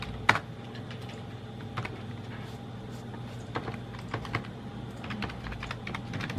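Sporadic keystrokes on a computer keyboard, a few separate taps followed by brief flurries of typing, close and fairly quiet above a low hum.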